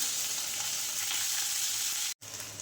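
Crushed whole cardamom, crushed chopped onion and spices sizzle loudly and steadily in hot oil as they are stirred, with a brief break near the end before the frying resumes.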